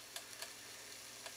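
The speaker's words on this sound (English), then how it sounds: "And our steak is cooking there." KC strip steak sizzling on parchment paper in a pan, a faint steady hiss with a few small pops and crackles.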